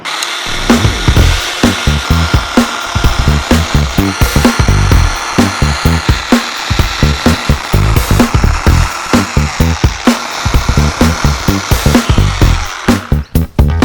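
A loud power saw cuts through wood in rapid, repeated bursts, the engine pitch pulsing up and down steadily for the whole stretch, with no talking.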